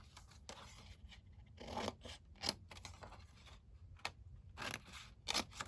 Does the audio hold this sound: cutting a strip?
yes